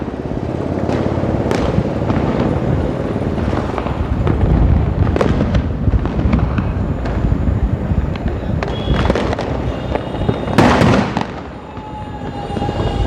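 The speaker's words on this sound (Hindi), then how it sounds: "आतिशबाजी लगातार कर रहे हैं लोग" Fireworks and firecrackers bang repeatedly at varying distances, with sharp cracks and rumbling booms layered over a continuous crackle.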